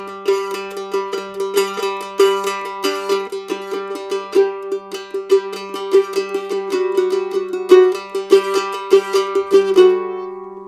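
A mandolin plays a lively Irish jig groove, its picked notes rhythmic and bright, with accented downstrokes driving each beat; solo and close, with no voices.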